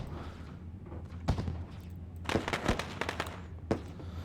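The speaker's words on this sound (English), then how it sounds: "that's a lot of fireworks just for a last chance qualifier" Fireworks at an asphalt kart race before the Kustom Kut 125 last chance qualifier: scattered distant pops and bursts over a low crowd and engine rumble, with a clustered volley in the middle and a final sharp report.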